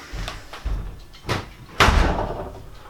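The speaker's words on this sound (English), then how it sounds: "Just blew the door open." Wind-driven door banging open at a house in strong gusts, a couple of soft knocks followed by a louder thud near the end, with rushing wind noise underneath.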